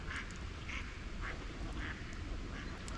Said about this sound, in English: There goes the ducks.